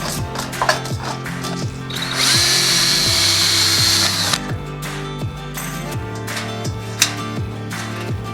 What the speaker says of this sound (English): Drill a hole just so there was something to mount with in the middle.